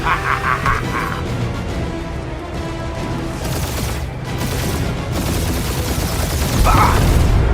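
Sustained gunfire in the Guardians of the Galaxy video game: dense, overlapping bursts of shots with occasional heavier booms, loud and steady throughout, and a brief voice near the start.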